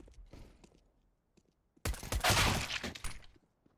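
Competitive Counter-Strike: Global Offensive match between Virtus.pro and FORZE, with a P250 in play: after quiet faint clicks, a loud dense burst of rapid gunfire erupts and rattles on for about a second and a half before fading.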